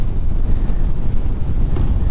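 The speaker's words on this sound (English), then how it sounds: "I don't know if you can hear, but it is windy AF today" Strong wind roars steadily against the microphone during a motorcycle ride, a dense low rumble with constant buffeting and no voices.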